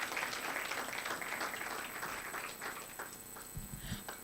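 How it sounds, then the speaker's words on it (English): Steady applause from an audience at a nutrient profile model launch event, honoring an awardee as she returns to her seat; fairly faint, even clapping that gradually thins out toward the end. "A round of applause until she gets to sit down."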